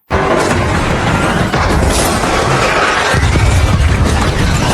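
A loud, dense crash of roaring noise from a car exploding after plunging off a bridge into a ravine, like a blast with debris, sustained throughout without a distinct single boom.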